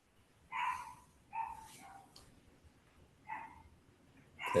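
A small dog barks several times in separate short bursts, faint and somewhat distant, behind a Spanish-language finance class, with a louder bark right at the end.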